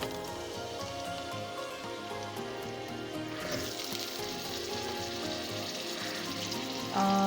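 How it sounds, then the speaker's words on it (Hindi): Potatoes frying in hot oil in a pan for an egg-and-potato curry, giving a steady, dense sizzle and crackle that holds evenly from start to finish with no talking. "यहाँ आलू फ्राई होते रहेंगे।"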